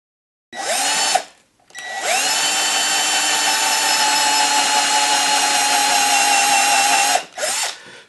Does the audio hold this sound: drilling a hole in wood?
yes